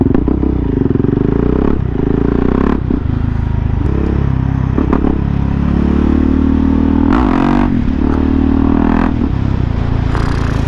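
A KTM motorcycle ridden up close, its engine droning loud and continuous and rising in repeated revs, with clatter and rattling from the ride.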